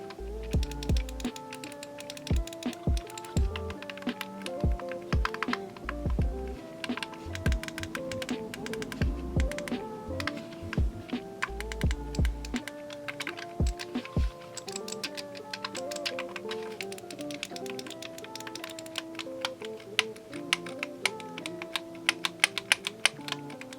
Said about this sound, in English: I'm going to be quiet now so you can hear the clickiness of the controller.